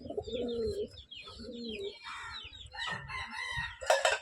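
Pigeons, including a black Malbai pigeon, coo in low, throaty rolling calls, repeated a few times nearby, followed by some brighter bird calls at the end.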